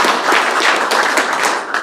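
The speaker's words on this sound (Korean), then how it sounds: "박수 부탁드립니다" An audience claps at an annual general meeting, a dense, steady applause of many hands close to the microphone that fades slightly toward the end.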